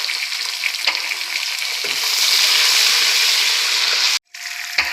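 Loud, continuous sizzling of finely chopped tomato frying in a hot pan, with a brief stir and a short gap near the end.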